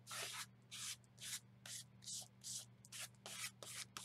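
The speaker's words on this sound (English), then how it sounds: "I'm just going to use a credit card and scrape some paint" A credit card is dragged through wet paint, a series of about ten short rasping scrapes in an uneven rhythm, close and fairly quiet over a low steady hum.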